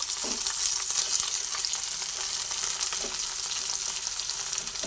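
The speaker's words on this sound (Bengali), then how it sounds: "এরপর একটু ভালো করে নাড়াচাড়া করে ভেজে নিচ্ছি" A mixture fried and stirred in a pan with turmeric powder, giving a steady bright sizzle with occasional scraping stirs, close and moderately quiet, with no talking.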